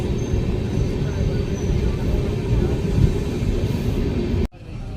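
Venkatadri Express pulling out of Pakala Junction on a rainy day, a steady close rumble of the moving train with wheel and carriage noise running continuously before it cuts off abruptly near the end.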